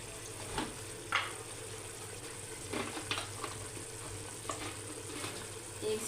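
Spices with turmeric and crushed coriander fry quietly in a pan for a moong dal mangochi curry, a soft, continuous sizzle broken by a few louder stirring scrapes.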